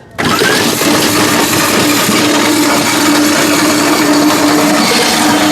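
A multi-purpose electric vegetable chopper starting after a brief quiet moment, then running with a loud, steady motor whine and the rattle of blades and chopped vegetables, close and continuous, with no talking.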